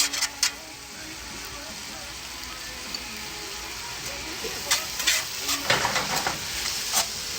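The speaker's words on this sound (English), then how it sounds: "And then we're just gonna give it a stir." Food stirred in a hot pan just after a sauce is poured on, for a steak sandwich: a steady sizzle with soft scraping and a few sharper clicks of the utensil late on, close and moderately loud.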